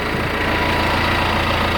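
The diesel engine of a 2018 Claas Ares 557 tractor idles steadily and close, with an even low rumble and a slight knocking pulse throughout.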